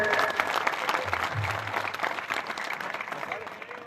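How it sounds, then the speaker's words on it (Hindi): A village crowd at a Shiv Sena candidate's outdoor election rally in Dudiya breaks into sustained applause, a thick wash of many hands that stays strong, then eases slightly toward the end, with some voices mixed in. "एक बार जोरदार तालियां बजाने चाहिए माता जी के लिए।"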